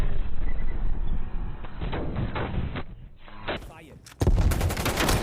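Rapid gunfire in the shooter Black Ops Cold War, bursts of loud automatic shots that drop away briefly and then return hard, with a voice speaking over the firing.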